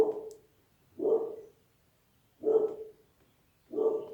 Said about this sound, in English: Cat is going by in front of the gates. Dogs are going crazy as usual.